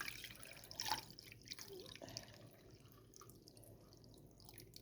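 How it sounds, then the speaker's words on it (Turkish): Blended liquid strained through a kitchen sieve trickles and drips into a container, a quiet, close stream of soft splashes and drips with a brief louder pour near the start. "Bak süzgecden geçireceğim."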